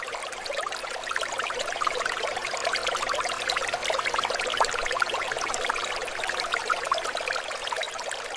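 Water flows steadily through the bare roots of hydroponically grown plants in an indoor vertical farm, a constant, fine trickling and splashing wash that stays even throughout without voices.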